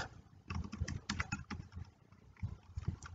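Computer keyboard typing in irregular bursts of quick clicks with short pauses between them, fairly close and moderately loud, with no voices.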